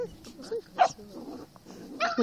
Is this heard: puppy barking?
yes